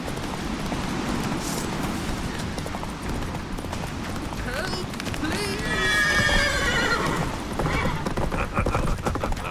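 A horse in The Witcher 3 gallops with rapid clip-clop hoofbeats and lets out a loud whinny midway, over game ambience and a voice speaking briefly.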